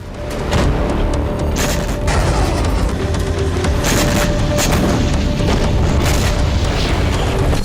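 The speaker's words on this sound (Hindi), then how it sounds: "यूक्रेन ने इन शहरों में नई मिसाइलों और ड्रोन से ताबड़तोड़ विस्फोट किए।" Explosions from Ukrainian drone and missile strikes on Russian cities make a loud, continuous roar of rumbling blasts with repeated sharper booms and no let-up.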